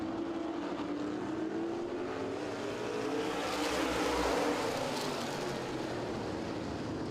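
Race cars roar around an oval track at a night race at the Big O, a dense continuous engine drone with a rising and falling pitch as cars pass, loud and unbroken throughout.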